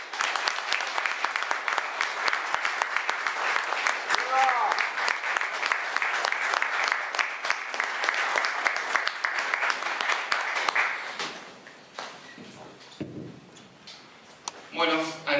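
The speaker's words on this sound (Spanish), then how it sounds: "a quien recibimos con un muy fuerte aplauso" A lecture audience applauds to welcome a speaker with dense, sustained clapping for about eleven seconds. The applause then fades into scattered claps and room noise, and a voice comes in near the end.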